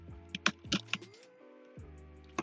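Faint typing on a computer keyboard while playing Roblox Hair Salon Tycoon: a handful of light, irregular key clicks over soft tonal game sounds.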